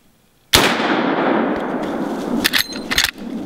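A single loud rifle shot rings out during an outdoor black bear hunt, a sharp crack followed by a long rolling echo, then a few fainter clicks and rustles close by.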